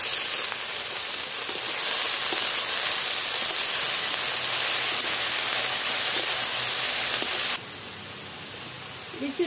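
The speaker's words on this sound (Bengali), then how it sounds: "এবার শাকটা দিয়ে দিচ্ছি।" Drumstick leaves hit a pan of frying onion and garlic and sizzle in a loud, steady hiss that holds evenly, then drops in level near the end.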